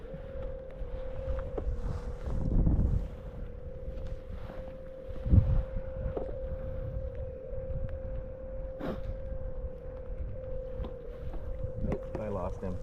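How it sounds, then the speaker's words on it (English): A modified Bixpy battery trolling motor drives a fishing kayak while trolling for kokanee, a steady electric whine humming constantly under wind buffeting, water noise and occasional talk. "let me turn the motor on"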